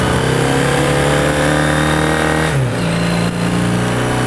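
A 1984 Honda CB400 cafe racer motorcycle engine pulling steadily while riding, loud and close, with a sustained mid-pitched drone that dips briefly as it shifts before holding on again, with no talk.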